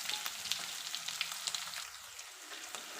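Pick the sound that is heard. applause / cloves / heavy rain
cloves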